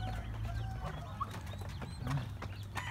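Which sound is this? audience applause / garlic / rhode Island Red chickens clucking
rhode Island Red chickens clucking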